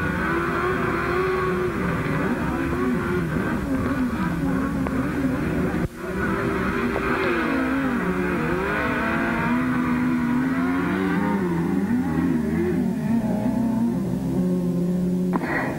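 Grasstrack racing motorcycles at the 1994 Salisbury Sizzler blast off at the start of race 24, a dense, loud, continuous roar of several engines revving and shifting pitch together.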